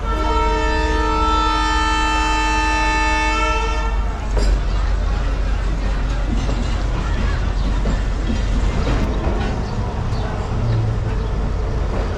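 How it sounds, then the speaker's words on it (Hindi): The Mohenjo-Daro passenger train departing: a long, loud, steady horn blast for about four seconds, followed by a continuous rumbling roar of rail cars rolling close by. "10 मिनट डिले के साथ डिपार्चर हो रहा है"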